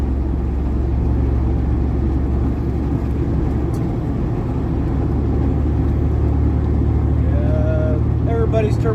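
An 18-speed truck drives along with its splitter in high range, giving a steady low road and engine drone throughout, and a brief rising tone near the end.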